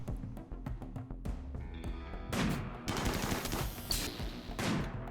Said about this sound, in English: And they're already getting sniped.